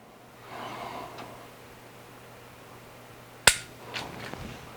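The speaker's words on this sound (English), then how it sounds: "that was a Neal Widener shot" A single sharp dry-fire trigger break from a pistol on a Mantis training system, one crisp close click standing alone in a quiet room, followed by a fainter small tap.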